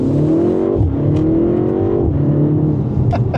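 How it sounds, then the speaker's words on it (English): A 2025 BMW M135 accelerating hard, its loud engine note rising steadily and dipping sharply at each quick paddle-shift gear change before climbing again. "I press a paddle and it gives me a gear."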